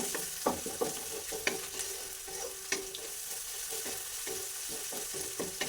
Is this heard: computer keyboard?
no